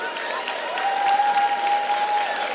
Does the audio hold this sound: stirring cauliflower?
no